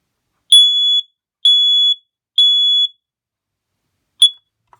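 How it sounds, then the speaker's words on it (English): A Kidde i9040 home smoke alarm sounding during a test: three long, loud, steady high-pitched beeps in an even rhythm, then a short fourth beep after a pause, alone with no talking. "Pretty decent smoke alarm is the Kiddie i9040."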